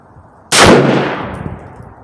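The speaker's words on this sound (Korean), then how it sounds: "그 다음에 세 발 사격해보겠습니다." A single sharp rifle shot from a Swiss K11 carbine rings out outdoors on a calm, mild day, a loud close crack that decays into a long fading echo, with no talking.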